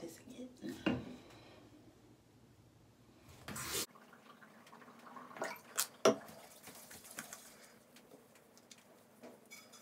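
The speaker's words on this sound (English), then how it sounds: "Wash my face with this again." Face being washed with Dr Bronner's tea tree castile soap at a sink, with water running and splashing close by in brief bursts and a heavier splash partway through.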